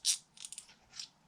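Faint, quick ratcheting clicks from the freshly rebuilt pawl mechanism of a Hope Pro rear bicycle hub, a short burst followed by a softer click, heard close and quiet.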